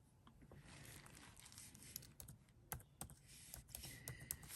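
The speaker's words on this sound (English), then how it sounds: "Let me just type that in." Close, quiet typing on a computer keyboard, a rapid irregular patter of key clicks with occasional sharper taps.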